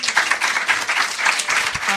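Live audience applause at a Marseille stage show, a dense, steady wash of many hands clapping that fills the whole two seconds with a brief voice in the middle.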